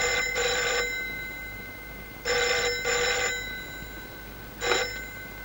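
A telephone at a harbour police station rings in repeated double bursts, clear and fairly close, with short silences between the rings.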